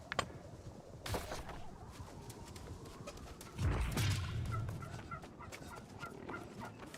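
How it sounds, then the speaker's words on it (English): Turkeys gobble in New World, a few faint warbling calls scattered over quiet outdoor ambience, with one louder, fuller burst in the middle. "Probably got enough turkeys."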